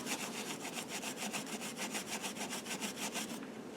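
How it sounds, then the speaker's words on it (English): Steady back-and-forth scrubbing of a Scotch-Brite pad over metal, clearing old gasket residue from an LT230 transfer case being resealed; rapid rhythmic rasping strokes, close and fairly loud, with no talk. "we can easily get that off using a Scotch-Brite"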